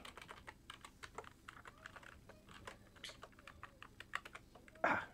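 Rapid, irregular keystrokes on a computer keyboard during live JavaScript coding of an OBS plugin: quiet, close clicks in a continuous burst, ending in a slightly louder cluster of taps.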